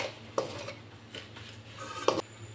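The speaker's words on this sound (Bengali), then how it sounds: "লো ফ্লেমে এই নারকেলটা 4 থেকে 5 মিনিট নেড়ে নিলাম।" A spoon scrapes and stirs coconut and sugar filling for gokul pithe in a pan over a low flame. Two sharp clinks against the pan stand out over a quiet background.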